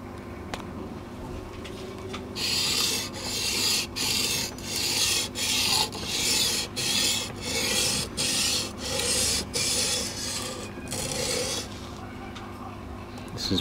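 Hand sanding a machete's bevel with 180 grit sandpaper gives a run of about a dozen rhythmic, raspy strokes back and forth, close and steady, with no talk.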